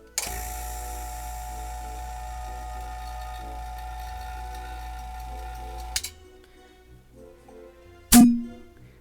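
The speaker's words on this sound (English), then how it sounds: "We take this connector, put it over to here. I'm gonna suck air out of it." A single-stage 3CFM vacuum pump runs with a steady, close motor hum and whine for about six seconds, then shuts off, followed by quiet clicks and a sharp hiss of air near the end.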